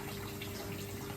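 Water runs steadily from a tap while a dish is rinsed, a constant close hiss over a short span.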